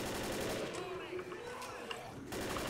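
Gunfire from weapons in the zombie shooter Left 4 Dead during the Blood Harvest campaign, a dense continuous burst of shots under game noise and someone talking.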